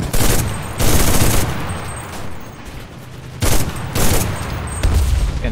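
Loud bursts of machine gun fire in the World War II shooter Enlisted, several sustained volleys separated by short lulls of quieter battlefield noise.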